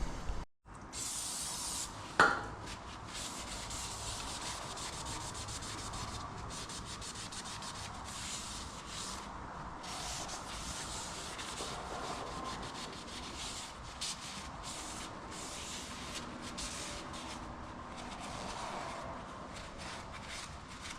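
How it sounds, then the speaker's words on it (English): A flywheel from a 1973 Dodge Charger 340 engine is rubbed clean, a steady rough scrubbing and hissing that runs continuously after a brief knock near the start. "You want to get this as clean as you can. We got the flywheel cleaned up."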